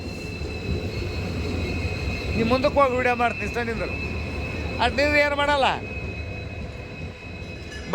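A train pulling into Ginigera railway station, its wheels squealing in two drawn-out bursts over a low rumble of rolling cars, with people talking nearby.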